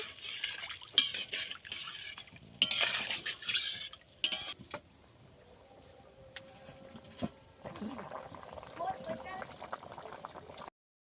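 Potatoes simmer in a thin, watery fish curry broth, giving a soft bubbling and liquid churn with occasional clinks and stirring, while a person talks over it at intervals.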